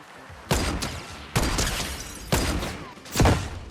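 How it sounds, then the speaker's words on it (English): Boom bow explosive arrows fire in Fortnite, producing four loud, close booming bursts spaced about a second apart, each with a sharp attack and a rumbling decay. "Oh, this guy has the boom bow."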